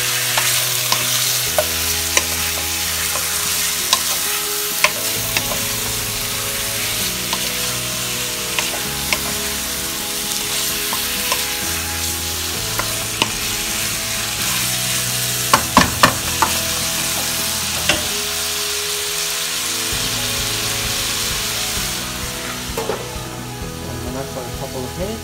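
Chicken browning in a pan for chicken tinola, a steady sizzle and frying crackle running throughout with occasional stirring scrapes and clicks of a utensil, fairly close and continuous, no talking.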